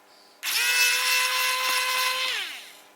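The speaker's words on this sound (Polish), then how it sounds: "Rozkręcamy sobie nasz tablet" A Xiaomi Wowstick 1F+ precision electric screwdriver whirs steadily for about two seconds while unscrewing an old Polaroid tablet, a high motor whine that winds down at the end, close and alone.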